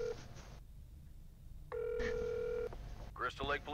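A telephone in the video game F13 Virtual Cabin being dialed, with a held tone, a pause, then another steady dial tone, followed briefly by a voice; a faint low hum runs throughout.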